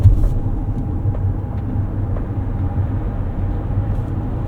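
A 2024 Mercedes-Benz eSprinter electric van pulls away under acceleration, heard from inside as a steady low road rumble with a faint thin electric whine running through it, with no engine note.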